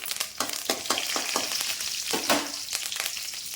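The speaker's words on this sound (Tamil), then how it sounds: "எண்ணெய் காஞ்ச உடனே கடுகு உளுந்தம் பருப்பு போட்டாச்சு" Mustard seeds, urad dal and curry leaves fry in hot oil, giving a steady close sizzle broken by quick sharp pops and crackles, with no voices.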